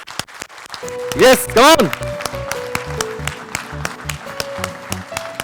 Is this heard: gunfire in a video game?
no